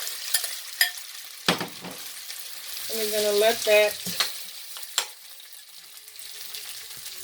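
Potatoes sizzle and crackle steadily in a hot pan, with a few utensil scrapes and knocks, and a brief spoken phrase partway through.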